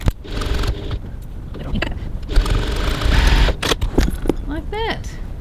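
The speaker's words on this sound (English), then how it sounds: "Now that we have stitched our corner seams" Sewing machine stitching the corner seams of a boxed handbag, a loud close mechanical whirr in bursts with pauses, while someone talks over and between the runs.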